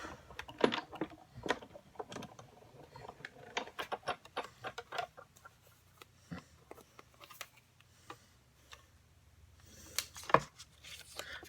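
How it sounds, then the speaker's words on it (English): Scissors cutting a paper circle for a handmade shaker card, close and quiet, as a series of irregular sharp snips and small clicks spread across the clip without talk. "cut out my circle"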